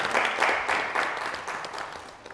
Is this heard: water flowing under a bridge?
no